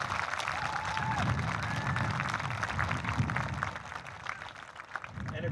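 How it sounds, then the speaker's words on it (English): Sustained applause from a seated audience at a middle school promotion ceremony, steady dense clapping filling the hall at moderate distance, easing slightly toward the end. "Please rise and give them a round of applause."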